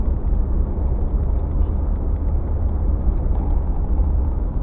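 A 1956 Cadillac Series 62 Coupe drives along with a steady, low, rumbling engine and road drone, close and continuous, with no talking.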